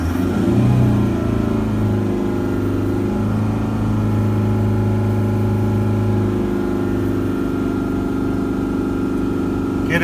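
A diesel engine is held at a steady 3,000 revs during diagnosis, a loud, constant mechanical drone with a firm low hum and layered harmonics, briefly rising at the start before settling, alone without talk.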